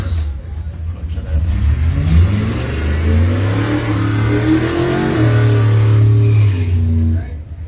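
A Mustang and an S10 accelerate hard at a drag race, their engines roaring up through rising revs over several seconds, loud and fairly near, with an announcer's voice partly heard over them.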